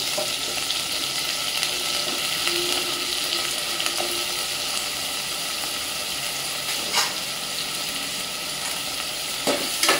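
Potatoes fry in oil in a pan, giving a steady, loud sizzling hiss throughout, with occasional faint scraping as they are stirred.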